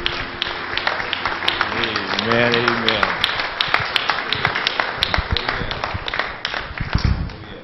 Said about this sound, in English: God, a hand clap of praise this morning